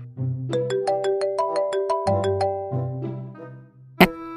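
Phone ringtone playing a bright, repeating electronic melody of quick chiming notes for about four seconds, loud and clear with no talking, ending in a sharp click.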